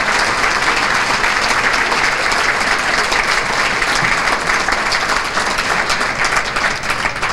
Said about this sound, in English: let's give a warm round of applause for these fine educators